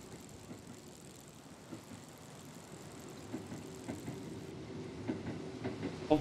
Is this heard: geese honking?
no